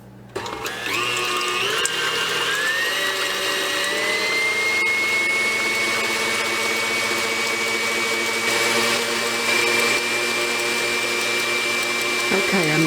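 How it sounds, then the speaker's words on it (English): An electric mixer whirs loudly and continuously while beating egg whites until frothy for a lemon ice box pie. Its motor pitch rises slightly after starting and then holds steady, with no voices. "I've got my egg whites in, and I'm going to beat them until they're frothy"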